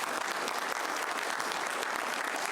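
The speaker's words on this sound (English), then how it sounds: "can I just get a clap for that?" Applause from an audience at a city commission meeting honoring Deltona High School, steady dense clapping filling the room for a couple of seconds with no talking.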